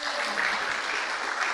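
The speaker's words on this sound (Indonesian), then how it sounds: "Kalau saudara percaya kepada Tuhan, tepuk tangan coba." A church congregation claps together during an Indonesian worship service, dense steady applause filling the space throughout, with no voices rising above it.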